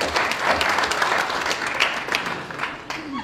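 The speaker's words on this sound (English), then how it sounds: "can you give yourself a round of applause, please?" A short burst of audience applause for boxer Amir Khan, loud and dense with uneven peaks, fading slightly toward the end.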